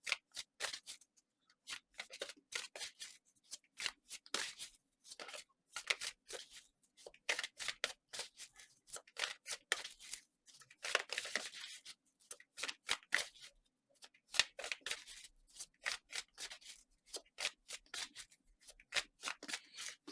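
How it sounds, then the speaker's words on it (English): Tarot cards are shuffled by hand in quick crisp bursts of riffling and slapping, repeated again and again with short pauses between, close and fairly quiet, with no speech. "Okay, I'm gonna stop talking and shuffle some more."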